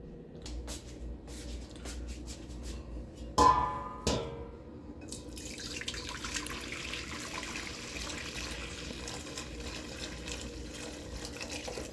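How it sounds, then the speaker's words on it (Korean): Beef brisket broth pours steadily from one pot into another after a couple of clanks of metal, a soft continuous splashing in a quiet kitchen. "국물을 이제 다른 냄비로 옮길게요."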